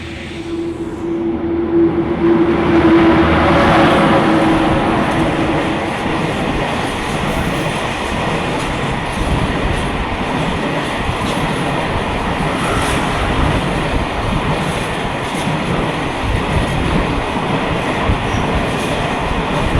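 Thai passenger train number 518, running Udon Thani to Hin Lap, passes Muak Lek station with a loud, steady rumble and rolling wheel noise that holds for the whole stretch, and there is no talk.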